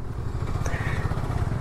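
A motorcycle ridden on a road toward a farmhouse on Holi day, heard as a steady, moderately quiet engine drone with road rumble and no talking.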